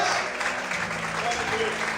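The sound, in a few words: congregation applauding in church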